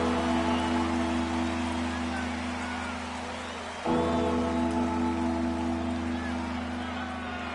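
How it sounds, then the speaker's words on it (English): Steady rain hisses across a football video game on PS4, a dense, even wash of falling drops with a low droning hum underneath; it dips briefly midway, then resumes at the same level. "the forecast called for rain throughout the entire game"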